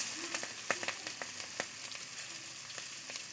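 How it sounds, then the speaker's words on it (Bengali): Chopped onion hitting hot oil tempered with panch phoron and green chillies, a steady sizzle dotted with sharp crackles and pops, close and with no talking. "দিয়ে দিচ্ছি পেঁয়াজ কুচি"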